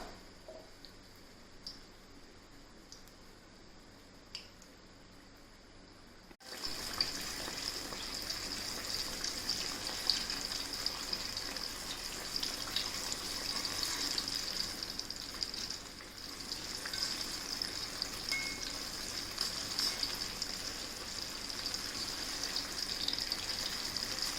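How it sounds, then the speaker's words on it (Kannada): Banana fritters deep-fry in hot oil, a continuous bright sizzling hiss that begins abruptly after a quiet opening and then holds steady and moderately loud. "ಚೆನ್ನಾಗಿ ಬಿಸಿಯಾದಂಥ ಎಣ್ಣೆಯಲ್ಲಿ ಕರಿಬೇಕು"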